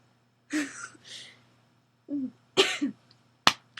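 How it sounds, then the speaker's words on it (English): Several coughs close by in short clusters, some throaty and some sharp, with pauses of silence between them. "Sorry I keep coughing."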